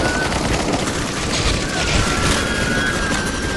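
Rapid automatic gunfire in the CS:GO video game, a dense continuous fusillade heard loud and close, with a voice briefly under it.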